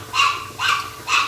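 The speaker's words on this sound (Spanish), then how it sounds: "¿Y a quién es que le está ladrando así? Esa perra está como loca." A female dog barks excitedly three times in an even rhythm, each bark fairly loud and close, with no talk over it.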